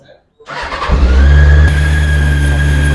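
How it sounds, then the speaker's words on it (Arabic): A Honda F4i 600cc motorcycle engine with stock exhaust cranks and fires up, then settles into a loud, steady idle with a low rumble and a whining tone, close by. "تعالوا بقى نسمع الصوت بتاع البايك"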